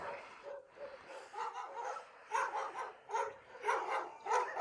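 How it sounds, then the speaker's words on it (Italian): A dog barks repeatedly outdoors in a mountain hamlet, a string of close, loud woofs and yips with brief gaps between them, and no one speaks. "c'è un cane che mi ha già visto."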